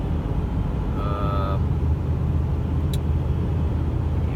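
A 2003 Dodge 2500 gas pickup cruises down a highway, its steady low engine and road rumble filling the cabin continuously, with a brief whine and a faint click over the drone.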